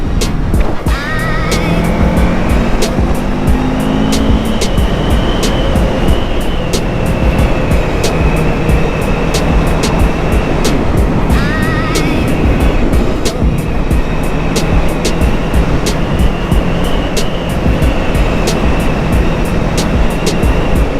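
A Yamaha FZ8 inline-four motorcycle roars steadily while being ridden, loud continuous engine drone with rising and falling revs and wind rush throughout, no speech.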